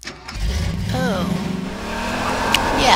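Vehicle engine revving hard under turbo boost while driving in Half-Life 2, a loud sustained roar that builds toward the end, with brief talk over it.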